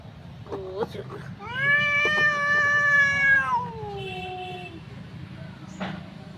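A house cat lets out a loud, drawn-out meow that slides downward at the end, with a short cry just before it, over a low background where a voice is also present.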